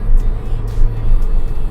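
Loud, close engine drone and road roar from an R56 Mini Cooper S out on a road, heard from inside, steady with slight swells as it drives on.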